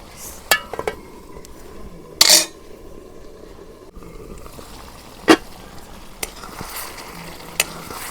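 Chicken being stirred in a kadai over a village clay stove: sparse metallic clinks and scrapes of the spoon against the pan, with a few sharper knocks spaced across quiet cooking background.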